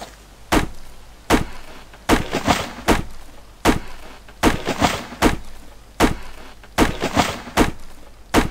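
Repeated heavy axe chops strike a tree in the survival game Subsistence, about a dozen sharp thuds at a steady, slightly uneven rhythm, loud and close with no talking.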